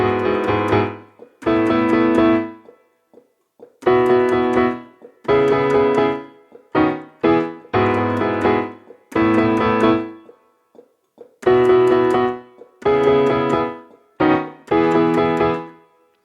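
Solo piano plays the second intro of the worship song "Jesus The Same" as a chord progression repeated twice, with sustained chords struck in clear, evenly spaced groups and short pauses between them.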